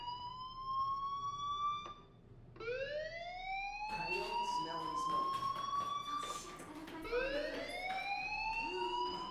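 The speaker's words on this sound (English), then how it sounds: "Hey, do you hear that fire alarm?" Rising, repeating electronic fire alarm tones sound at a school in the video game Life Is Strange, loud and continuous across the whole stretch, with several overlapping sweeps and a voice speaking over part of it.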